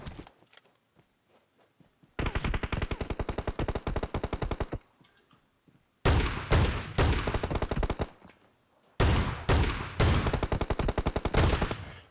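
Rapid bursts of loud, close gunfire crack out in three long runs separated by brief quiet gaps, with a handful of faint shots before the first burst, in a shotgun-only shooter video game.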